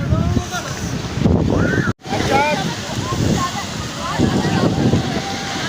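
Sea waves on the beach at Puri wash in with a steady broad roar, churning surf and gusting wind buffeting the microphone, while voices talk and call out over the water throughout.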